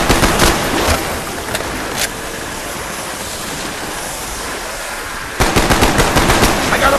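Loud bursts of automatic gunfire in Call of Duty: Black Ops Zombies, rapid shots at the start and again near the end, with a noisy ambient stretch between.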